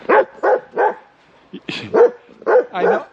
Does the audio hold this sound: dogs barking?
yes